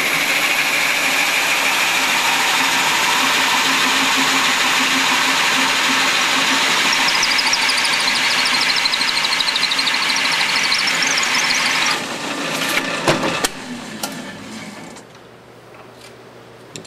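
Wood lathe spinning steadily at a low 400 RPM while turning a wooden top, a continuous motor hum and whir at close range that cuts off abruptly near the end, leaving a few clunks and quieter room noise.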